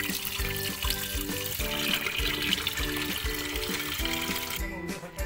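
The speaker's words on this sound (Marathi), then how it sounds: "आपण आता हे नळाखाली स्वच्छ धुवून घेणार आहोत," Tap water running over halwa fish being washed under a faucet, a steady splashing trickle close by, with clinks of the fish and vessel throughout and a brief clatter near the end.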